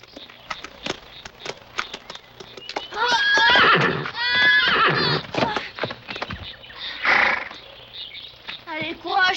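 A cartoon horse gives several loud, shaky neighs and whinnies, with clip-clop hoofbeats and animated sound effects scattered around them.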